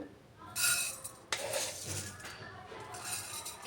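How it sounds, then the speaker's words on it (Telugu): A kadai set down on a kitchen stove, giving a couple of metallic clanks and clinks of pans and utensils amid light kitchen handling, close and moderately loud. "స్టవ్ మీద ఒక కడాయి పెట్టుకోవాలి"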